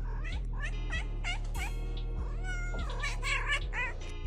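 Several cats meow in quick succession, high wavering cries overlapping one another over a steady low mechanical hum.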